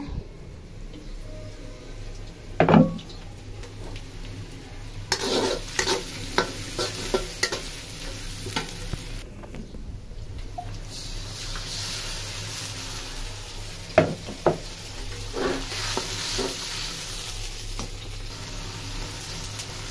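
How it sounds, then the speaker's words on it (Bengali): Rice for pulao frying in a pot while a spoon stirs it, giving steady sizzling with scraping strokes close by. A clear run of stirring scrapes sits mid-clip, with no talk. "চালটা কিন্তু পুরো ভাজা ভাজা হয়ে গেছে।"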